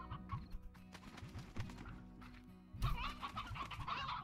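A hen in the video game Slime Rancher clucks in short repeated bursts, with a busier layer of game sounds joining in partway through.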